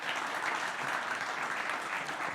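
Audience applause at a smart city conference forum in Tallinn, a dense, steady wash of many hands clapping throughout with no speech.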